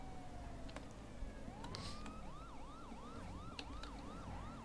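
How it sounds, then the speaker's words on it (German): A police car siren in GTA V, on a modded LSPD:FR patrol, wails in rising sweeps and then settles into a steady, rapid yelp cycle. It sits at moderate distance over a constant hum of traffic and engine noise. "Das sind zwar keine echten amerikanischen Sirenen"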